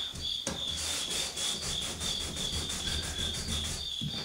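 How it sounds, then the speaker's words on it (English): Steady rhythmic rubbing and scrubbing strokes as old finish is worked off a Hoosier cabinet by hand, close and continuous, with a brief pause near the start and end. "as I start rubbing this now, how fast it takes that mess off of there."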